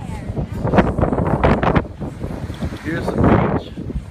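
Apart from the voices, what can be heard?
wind blowing on the beach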